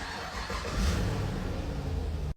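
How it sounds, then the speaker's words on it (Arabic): A 2017 Kia Cadenza sedan revs and rolls forward, a steady, fairly loud engine roar mixed with broadband road and tyre noise that swells briefly and then cuts off abruptly. "طبعا الحين بس أدق ريوس تطلع السيارة هنا"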